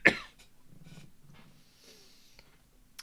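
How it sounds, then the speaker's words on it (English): A single sharp cough close to a streaming microphone, followed by quiet breathing and faint rustles. "I didn't mean to cough that either."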